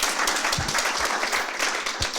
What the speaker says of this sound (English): Clapping is good, yep.